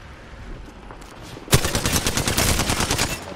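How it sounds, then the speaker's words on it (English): Rapid automatic gunfire in a shooter game bursts in suddenly after a quiet lead-in, with loud, close, sustained shots firing in a fast steady rhythm and no talk. "Opening fire."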